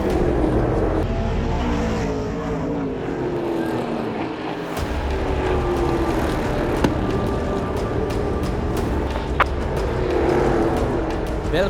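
Race cars roar around a track during a stock car race, engines droning continuously with rising and falling pitch as cars pass, loud and close throughout.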